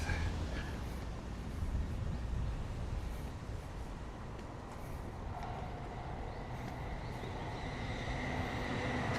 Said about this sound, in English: Oh, Chuo line train.